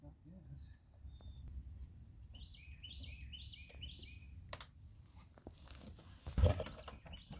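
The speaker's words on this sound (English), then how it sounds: "The birds are chirping." Small birds chirp in short bursts outdoors on a cool spring morning, moderately distant and faint over a low background rumble, with a brief knock partway through.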